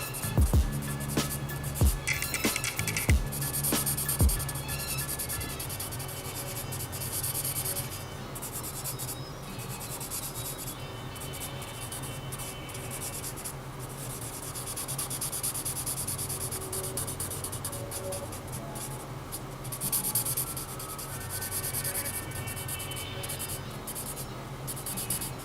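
A pencil shades a drawing on paper with continuous close scratchy strokes, rubbing back and forth at a steady pace, with a few sharper taps early on.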